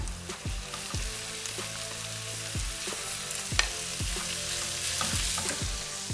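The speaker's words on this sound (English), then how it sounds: "And here comes in my minced meat." Minced meat fries in a pan with a steady, close sizzle, punctuated every second or so by the knock and scrape of a utensil stirring it, with no talking.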